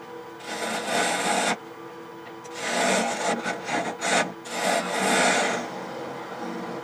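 A Thompson half-inch gouge with an open flute hollows the inside of a dogwood bowl on a lathe, giving loud, rough scraping bursts that start and stop in uneven strokes, with short pauses between cuts.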